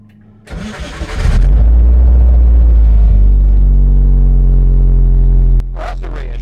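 A Hillman Imp engine is started with the choke on: a short cranking whirr, then the engine catches and settles into a loud, close, steady rumble that drops slightly to idle near the end.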